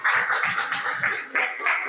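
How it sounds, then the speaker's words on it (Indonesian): Classroom clapping after a student group presentation, a short burst of hand claps from several people nearby, with a brief lull before the clapping picks up again. "Tepuk tangan lagi."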